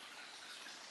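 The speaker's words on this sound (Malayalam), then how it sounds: "പാറയിൽ കൂടെ ഇത് ഒഴുകി വരുന്ന നല്ല ശുദ്ധമായ തെളിഞ്ഞ വെള്ളം" Clear water streams over rocks at Alakapuri waterfall in Kanjirakkolli, Kannur, making a soft, steady, continuous rush with no voices.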